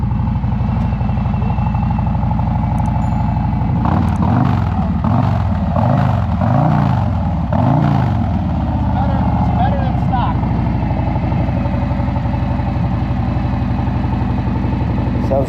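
Custom motorcycle with new exhaust baffles running in a parking lot, a steady close idle under several revs that rise and fall in swells, with people talking over the engine.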